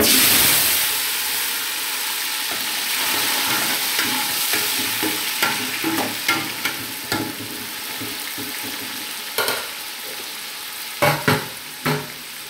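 Tomato, onions and pepper fry in a pot with a steady hissing sizzle, broken by repeated scraping stirs that grow louder and more frequent toward the end.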